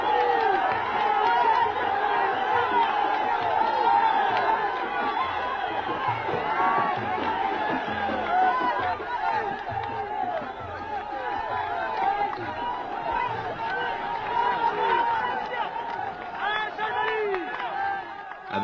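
Dense crowd noise from a large gathering at the Green March camp in the Moroccan desert, a continuous murmur of many voices and movement that stays steady and fairly loud throughout.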